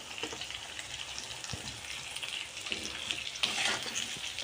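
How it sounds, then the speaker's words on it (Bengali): Tomato and coriander stirred into spiced masala sizzle and fry quietly in a pan, with soft scraping stirs and occasional spatters close by. "টমেটো ধনেপাতাটা দেওয়ার পর ভালো করে নাড়াচাড়া করে নেব"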